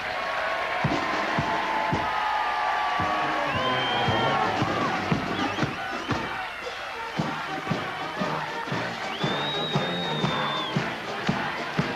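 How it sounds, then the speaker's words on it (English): A large outdoor crowd at a 1982 It's a Knockout team-games arena claps and cheers loudly, with shouts, sharp bangs and whistles rising over a continuous roar. "they leave the arena to great applause"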